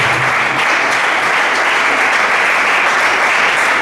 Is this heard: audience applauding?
yes